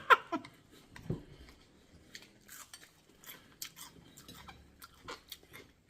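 Crunchy lemon and pumpkin seeds in a quinoa salad being chewed close up, with scattered small crunches and bites at uneven intervals, soft and intimate.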